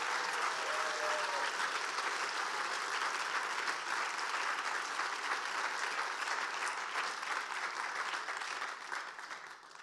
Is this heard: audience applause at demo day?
yes